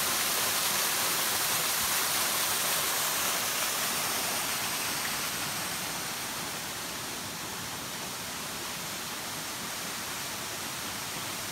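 Steady broadband rush of a waterfall on the Coomera Circuit rainforest trail in Lamington National Park, a continuous even roar heard alone with no voices.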